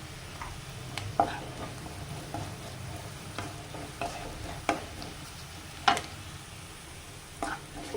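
Onions, spinach and egg fry in a pan with a steady low sizzle, broken by a few sharp clicks and scrapes of a utensil against the pan. No one speaks.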